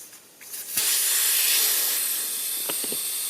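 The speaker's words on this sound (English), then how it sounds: "now with all the air out of the tyre" Air hisses steadily out of a unicycle tyre through the open valve once the valve core has been unscrewed, a loud broadband rush that starts abruptly and holds for a few seconds, with a few faint clicks near the end.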